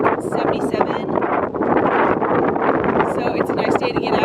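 Gusty wind at Grapevine Lake, Texas, on a warm day by the North Ridge Trail, rushing and buffeting the microphone in loud bursts while a person talks over it.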